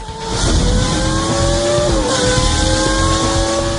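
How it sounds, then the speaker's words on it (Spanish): A Formula 1 race car's high-revving 2.4-litre engine, a loud, close, continuous high-pitched whine climbing steadily in pitch, with a brief dip around the two-second mark, alone without talk. "Este es el inconfundible sonido de sus componentes moviéndose a velocidades que destrozarían un motor normal."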